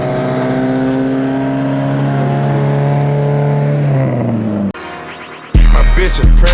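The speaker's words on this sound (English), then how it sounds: "Cars everywhere." Cars cruising and revving on the Gatlinburg strip late at night: a loud sustained engine drone rising and falling, a brief dip, then a sharp, louder burst of revving near the end.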